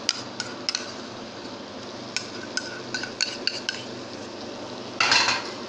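A spoon stirs kebab stew in a pot over a quiet background sizzle, with scattered light clinks and scrapes against the metal and a louder burst of scraping near the end.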